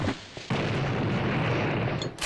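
A dynamite blast booms in the video game Ghouls vs Humans Multiverse, a loud, broad burst of noise that holds as a rumbling roar for nearly two seconds before cutting off, with no talk over it.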